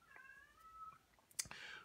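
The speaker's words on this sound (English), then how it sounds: "one of our cats is meowing like a freak in the background" A cat gives a drawn-out, rising meow, followed by a few soft clicks and a brief rustling sound, all fairly quiet and close.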